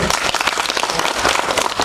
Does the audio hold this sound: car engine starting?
no